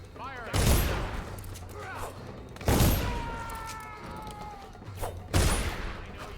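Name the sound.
gunfire from guards in the video game Dishonored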